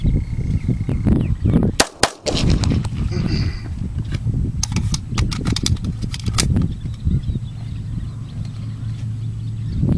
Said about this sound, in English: Mr. Lance, go ahead and fire.